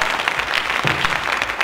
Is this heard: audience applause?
yes